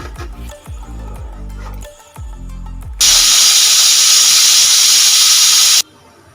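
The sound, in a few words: pressure cooker whistle releasing steam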